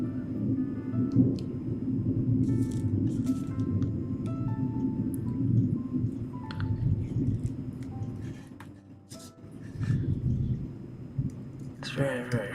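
Thunder after bright lightning, heard as a continuous low rumble rolling through the background with scattered small clicks and faint higher sounds.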